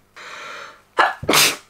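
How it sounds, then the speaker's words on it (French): A person sneezes loudly and close: a drawn-in breath builds, then two sharp bursts follow in quick succession. "Oh non j'ai déjà envie d'éternuer, ça y est."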